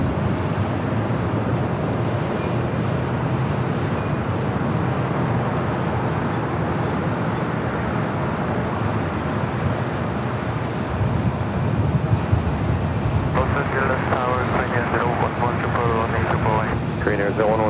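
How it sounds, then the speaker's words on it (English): An American Airlines Boeing 787 Dreamliner bound for Miami begins its takeoff roll on runway 25 Right at LAX, a steady broad engine roar heard from a distance that holds throughout, with talk entering near the end. "we've got a Dreamliner, American Dreamliner heading to Miami, now starting its roll down"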